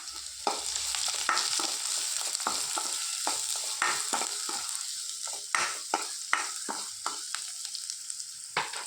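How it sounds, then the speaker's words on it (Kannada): Chopped onion sizzling and frying in hot oil in a home kitchen pan, with a steady bright crackle and repeated sharp stirring scrapes and clinks throughout, no voices. "ಈರುಳ್ಳಿ ಎಣ್ಣೆ ಹಾಕುವ."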